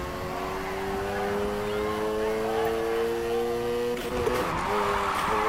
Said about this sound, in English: First up, let's hit a basic drift